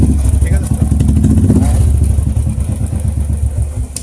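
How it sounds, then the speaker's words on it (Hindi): Royal Enfield Classic motorcycle engine running after servicing, a loud, close, steady thumping idle with rhythmic mechanical clatter throughout. "अभी हम लोगों का बाइक साउंड बहुत अच्छा क्वालिटी हुआ"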